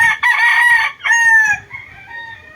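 A pure Milsim gamefowl rooster crows loudly and close, two strained, drawn-out calls in quick succession, the second trailing off into a fading tail, with no one talking over it.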